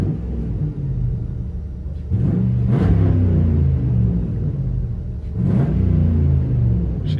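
Cabin view of a 2007 Dodge Ram 2500 HEMI with dual straight-pipe exhaust: deep rumbling idle swelling into two short throttle blips, loud and booming, no talking.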